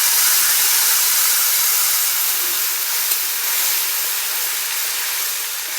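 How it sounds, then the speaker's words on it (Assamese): Onions fry with ground spices in a hot pan, giving a steady, close, even sizzling hiss with no voices over it. "পিয়াজখিনি ৰঙচুৱা হোৱালৈকে ভাজি লম"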